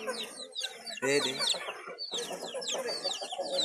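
Hen chicks basking in the sun cluck and cheep close by, pecking at a phone, in busy bursts of bright peeps. A person speaks briefly over them.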